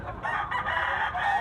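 A yellow-legged bullstag gamecock crows loudly and close at a rooster market in Tabunok, Cebu, one sustained call filling the clip with a dense market murmur underneath.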